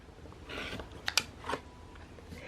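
Fabric shears or a rotary cutter trimming the end of a pieced quilt block unit, a few short crisp snips close by against quiet room tone.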